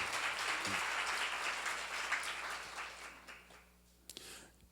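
Seminar audience applauding together, a dense steady clatter of many hands for about three seconds that thins and fades out, with a couple of isolated claps near the end.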